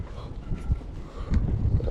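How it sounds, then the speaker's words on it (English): Wind gusting across a microphone at a boat ramp during crabbing, a steady low rumbling buffet that swells louder in the second half, with no talk over it. "That wind going crazy"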